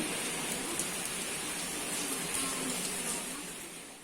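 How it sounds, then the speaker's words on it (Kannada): Steady rain falls outside on a chilly day in Bengaluru, a continuous even hiss of drops that holds at a moderate level throughout, with no voices. "ಆಚೆ ಮಳೆ ಬರ್ತಾ ಇದೆ"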